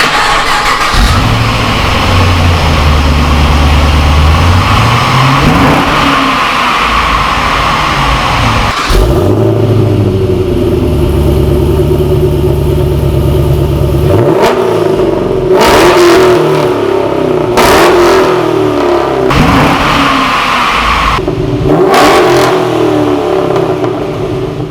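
A Holden ute engine breathing through a new 3-inch exhaust starts up, then idles and revs repeatedly in loud, rising and falling surges with sharp throttle blips toward the end, close and continuous.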